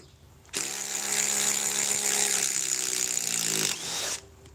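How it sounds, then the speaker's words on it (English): A DeWalt high-torque impact driver sinks a 5-inch power lag screw, starting abruptly and running as a loud, close buzzing whine for about three seconds before it drops briefly and cuts off, with no voices. "Just taking an impact driver to the extreme."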